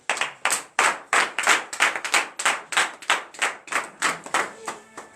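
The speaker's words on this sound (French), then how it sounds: "donnez de vive acclamation au Seigneur Jésus" Congregation clapping in unison during a morning prayer service, about fifteen sharp rhythmic claps in a steady beat, close and distinct, with no talking.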